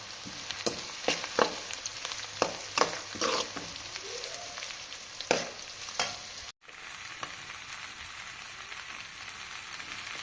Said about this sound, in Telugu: ఇవన్నీ పోపు పెట్టాలి.